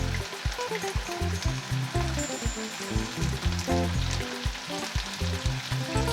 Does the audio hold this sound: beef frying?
yes